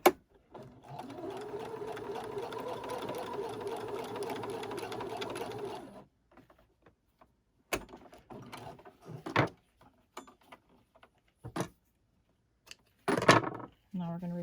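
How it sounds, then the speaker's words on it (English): A sewing machine runs steadily for about six seconds as it stitches a hole shut along the seam of small newborn-sized elf outfit pants, then stops, followed by scattered clicks and handling noises. "down through this machine and stitch that hole shut again."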